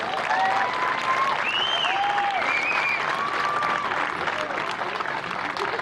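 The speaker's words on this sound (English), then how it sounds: "Give them a round of applause for their great season, folks." Steady, loud applause from a college softball crowd fills the space, a continuous wash of clapping with a few voices shouting over it.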